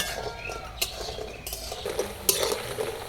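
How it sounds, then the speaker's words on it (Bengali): Pumpkin flower fritters fry in a pan with a continuous crackling sizzle, broken by a few sharp clicks and scrapes of a utensil against the pan, with no voices. "বড়াগুলো একটু লাল করে ভেজে নেব"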